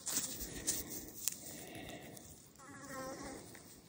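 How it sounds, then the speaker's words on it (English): Flies buzz past outdoors during rockhounding in Utah, a faint, intermittent drone that rises and fades as insects pass near, over quiet background noise. "There's a lot of flies out lately."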